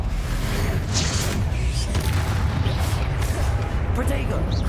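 Explosive Confringo spell blasts go off in the Hogwarts Legacy video game: loud, rumbling booms and whooshes follow one another through a constant dense roar of combat, with a voice mixed in.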